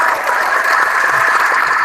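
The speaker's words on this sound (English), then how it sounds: "let's go and get your hand clap." Applause-like clapping from a small group at the close of a gaming podcast, a steady dense patter of hand claps with no talk over it.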